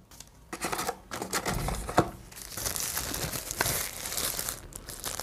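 Plastic and paper packaging of a Flipkart delivery crinkling, tearing and rustling up close as it is unwrapped, with a continuous busy crackle throughout and no talking.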